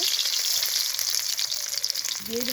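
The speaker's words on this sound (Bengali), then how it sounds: "আলুটা তেলে দিয়ে দিব" Boiled potatoes dropped into hot oil fry with a loud, continuous close sizzle and crackle, with a brief higher hiss near the end and nobody speaking.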